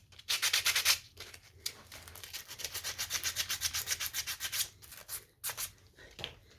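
Rhythmic rasping strokes of sanding on old cedar wood, fast back-and-forth rubbing with short pauses between bursts, close and steady.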